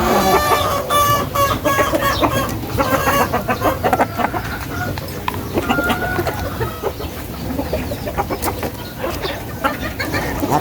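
Pet chickens cluck and chatter busily while being fed, with several birds calling in quick overlapping bursts close by and a rooster-like call mixed in.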